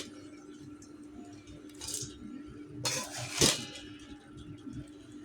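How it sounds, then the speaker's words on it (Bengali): Mutton biryani is scooped from a kadai into a rice cooker, making scattered metallic scrapes, clinks and soft squishy thuds, with a sharper clatter near the end, all fairly close and without talk. "এখন আমি কড়াই থেকে রাইস কুকারে নিয়ে নেব।"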